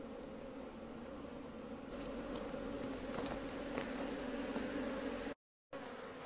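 Honeybees buzz steadily around a hive on a Portuguese farm, a constant droning hum at moderate distance with a few louder passes of individual bees, continuing without any talking.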